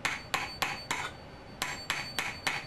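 A hammer taps a nail axle into a pinewood derby car body in eight sharp, close, evenly spaced strikes, with a short pause midway.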